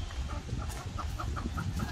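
Hens in a coop give soft, repeated clucks at a moderate distance, set over a low background murmur.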